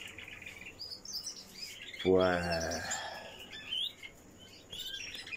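Small birds in a home aviary chirp and trill throughout, with a louder, rapid descending call in the middle, while someone speaks briefly nearby.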